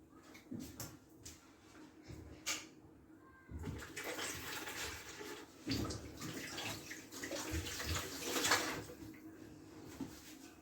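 Water runs from a tap in a kitchen while hands are rinsed, a faint, uneven splashing and trickling with soft clatters and bumps, quiet throughout.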